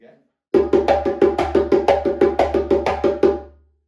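A djembe, played close and loud, runs a quick phrase of about twenty even hand strikes. Every third hit is accented, giving a rolling triple pulse with sharp slaps over a deep resonant body, and then the last strike rings out.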